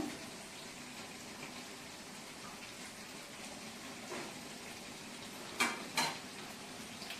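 Food frying in a pan during cooking for a charity meal, a faint steady sizzle with two louder bursts of spattering near the end.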